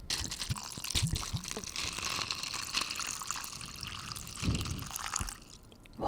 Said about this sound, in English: We're pouring out the water